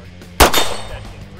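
A single sharp pistol shot cracks out during an outdoor hunting session, a loud close report with a short ringing tail fading over the following second.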